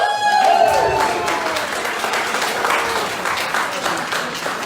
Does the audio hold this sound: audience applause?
yes